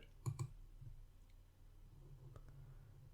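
Two quick, faint computer mouse clicks close together at the start, followed by a quiet room hum and a couple of softer taps, while working in Power Query on a computer.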